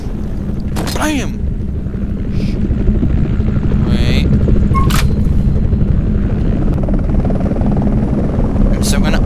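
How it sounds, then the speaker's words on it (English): Helicopter in the shooter game F.E.A.R. 2, a steady loud rotor thrum and engine drone throughout, with brief sharp effects and a short vocal sound layered over it. "Helicopter! Run for your life!"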